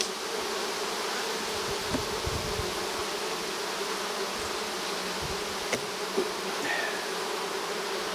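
Honeybees buzz steadily around an open hive during fall hive work, a dense continuous drone close by with a few faint clicks and knocks from the hive and no talking.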